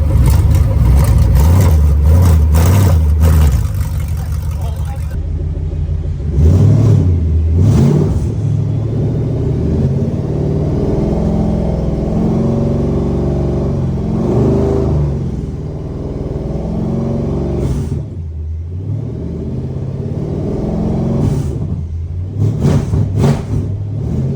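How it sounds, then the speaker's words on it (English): Twin-turbo Infiniti G37 coupe engine revving and accelerating, a loud, continuous deep rumble with rising and falling surges, close by and without talk. "this is my boy's twin turbo G37 coupe"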